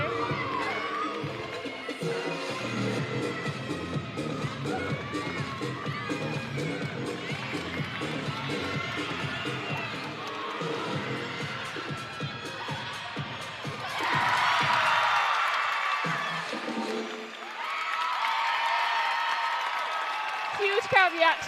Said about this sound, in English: Huge crowd reaction on that last tumbling pass